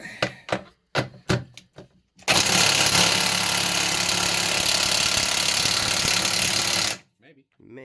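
Impact wrench rattling loudly and steadily for about five seconds on transmission bolts, preceded by a few short clicks and knocks and followed by quiet shop sounds.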